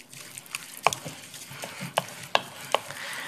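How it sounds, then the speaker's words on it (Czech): A spoon stirs a poppy seed mixture with crumbled gingerbread in a bowl, giving soft scraping with a few sharp clinks against the bowl, close and quiet. "Opět promíchám."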